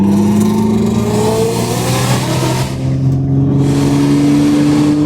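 A 600 hp Nissan GTR engine revving hard under acceleration, a loud close-up rising roar that climbs steadily in pitch with a brief dip midway before pulling up again.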